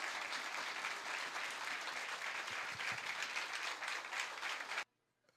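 A church congregation in Haiti applauds at the installation ceremony for a newly appointed pastor, a loud, dense and steady wash of clapping that fills nearly five seconds before cutting off abruptly into near silence.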